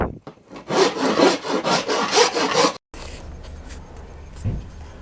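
Steady back-and-forth rasping on a yew wood bow as it is shaped, strong continuous strokes for nearly three seconds, then a brief pause and quieter scraping with a faint knock near the end.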